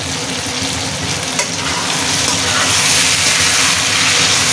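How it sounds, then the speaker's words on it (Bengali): Bottle gourd and hilsa fish sizzle loudly in a hot pan while being stirred, a continuous close frying hiss with scraping movement running throughout. "ঢাকনাটা তুলে আবার একটু নেড়ে নেবো।"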